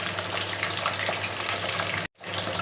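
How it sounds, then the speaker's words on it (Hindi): Fish fries in hot oil in a pan for a masala fish curry, giving a loud, steady close sizzle with crackling texture that cuts out abruptly for a moment near the end before resuming. "इस तरह हम सारे फिश को फ्राई कर लेंगे।"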